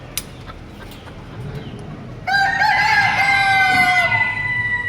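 A large rooster at an animal auction in Kuwait lets out a single loud, drawn-out crow close by after a quieter stretch of background noise.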